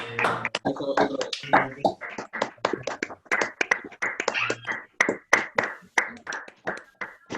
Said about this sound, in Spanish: pues dale un aplauso a los dos referentes